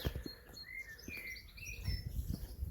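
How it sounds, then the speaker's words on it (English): Faint birdsong and chirps drift from a distance over soft footsteps and outdoor rustling on a coastal walk between Tintagel and Boscastle, Cornwall. "Hear all the birds."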